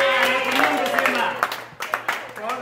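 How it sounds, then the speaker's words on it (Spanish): Brief scattered clapping for Simba that rises under ongoing talking voices, with a few sharper claps near the end. "Aplausos ahí para Simba."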